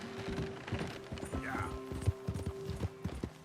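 Spotted Appaloosa horse in Red Dead Redemption 2 crossing a rope bridge over a river, its hooves clopping at a steady walking rhythm on the wooden planks, with a low voice talking underneath.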